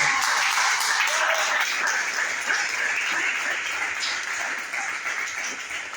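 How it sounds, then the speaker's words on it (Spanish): Sustained congregational applause fills a church sermon service, a dense steady wash of many hands clapping at once, loud and continuous, with a faint voice or two underneath. "¿Cuántos damos un aplauso a ese?"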